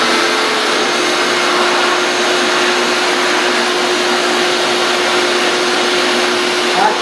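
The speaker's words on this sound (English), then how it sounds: "Whereas this sander, I can pinpoint exactly where I need to take more or less." A power sander carving a wooden board, a loud continuous close-up whine with steady tone and no pauses.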